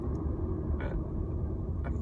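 An electric car coasting downhill and slowing with regenerative braking near a supermarket forecourt gives a steady low road rumble of tyres and cabin noise, with a couple of faint brief clicks.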